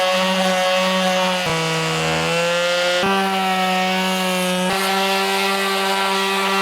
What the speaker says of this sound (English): This sander is doing really good with those places where you just have a little bit of paint left over.